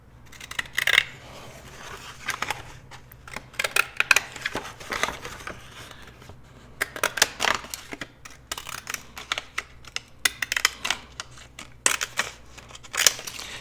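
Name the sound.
scissors cutting out a paper stamp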